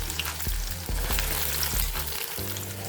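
Taro root and green chili fry in a pan: a steady close sizzle broken by several sharp scrapes of a spoon stirring the pan.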